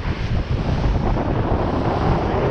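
Strong trade wind at around 20 knots at sea on a sailboat crossing from Saint Lucia to Martinique. It is a loud, steady, buffeting roar of wind over the microphone, with wash from the waves beneath.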